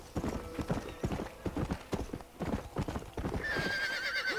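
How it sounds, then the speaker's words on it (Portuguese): Horse in Red Dead Redemption galloping with a rapid steady clip-clop of hooves and a brief whinny, close and prominent, with a tonal game sound rising near the end. "É o bichão mesmo esse cavalo"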